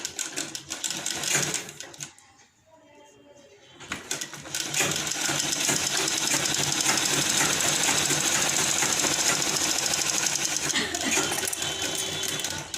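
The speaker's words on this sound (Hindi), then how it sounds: "यहाँ भी मैं एक सिलाई चला दूंगी" A sewing machine stitches a lined blouse. It whirs briefly, pauses for a moment, then runs loud and steady at close range for several seconds.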